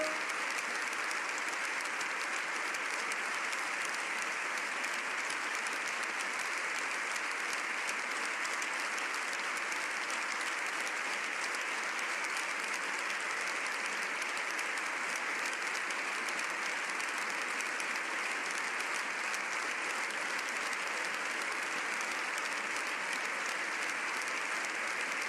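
A standing ovation for the Pope in the Spanish parliament, with dense, continuous clapping from a large crowd that holds steady and loud throughout, with no pauses and no clear voices.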